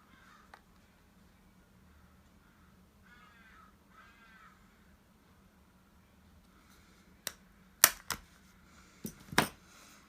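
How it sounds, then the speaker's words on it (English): Several loud, sharp bird calls burst out near the end, harsh and caw-like, heard through an open patio door after a stretch of quiet background with faint chirps and a low hum. "The reason I can hear the birds so much, I wonder if you can hear them."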